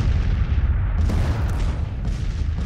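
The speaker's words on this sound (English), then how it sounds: "He's firing with his own artillery." Civil War artillery booms in the strategy game Grand Tactician, a loud, close cannonade of deep overlapping blasts that roll into a heavy rumble with no voices.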